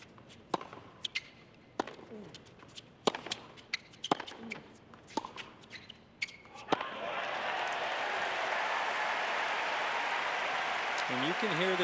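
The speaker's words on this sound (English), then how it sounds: "And you can hear this crowd, right?" Tennis crowd at the 2019 US Open quarterfinal between Medvedev and Wawrinka: scattered sharp claps and thuds first, then a sudden swell into loud, sustained applause and cheering that fills the rest of the clip, with a faint voice near the end.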